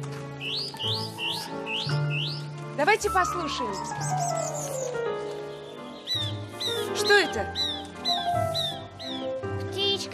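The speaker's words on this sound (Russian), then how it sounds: "Да, канарейка." A canary sings in bright, rapid chirping trills and repeated tweets over a steady tonal backing, while people speak over the birdsong.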